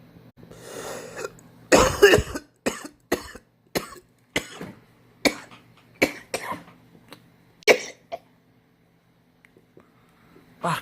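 A man with a cold coughs repeatedly in harsh, ragged bursts, a heavy fit early on and then scattered single coughs and throat clearing, close and loud in an otherwise quiet indoor room.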